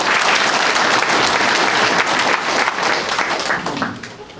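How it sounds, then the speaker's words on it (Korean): An audience at an academic discussion forum welcomes a speaker with loud, dense applause that holds steady, then thins out toward the end. "여러분 박수로 맞이해주시고"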